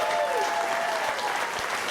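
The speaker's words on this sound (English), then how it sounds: "Chad and Sarah, give him a big round of applause up there." Audience at a Hall of Fame induction ceremony applauding, dense and loud clapping throughout, with a faint tone and voices underneath.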